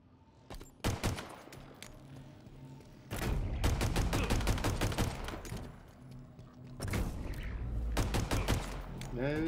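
Rapid automatic gunfire in Halo Infinite multiplayer, loud close bursts of repeated shots in three main volleys separated by brief lulls, with faint voice chatter between.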